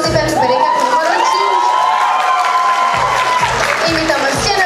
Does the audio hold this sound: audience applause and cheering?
yes